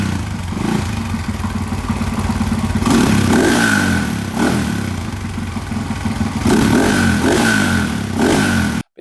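A 1999 Husqvarna TE 610 motorcycle with dual exhaust pipes revs up close and loud, its engine rising in several throttle blips over a rough idle.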